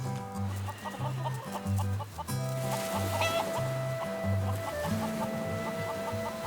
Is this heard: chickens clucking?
yes